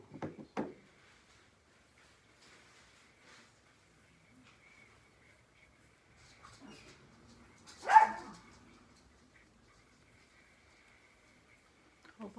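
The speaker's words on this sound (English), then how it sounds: "Y'all see that dog all the way barking." A dog barks a few times, mostly faint and distant, with one louder bark midway amid long quiet gaps.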